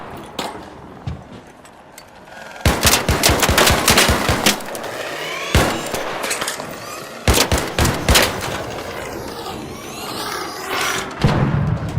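Heavy gunshots from the Anvil weapon in the video game Arc Raiders ring out in loud bursts of sharp reports, several clustered shots separated by pauses, with game ambience between them.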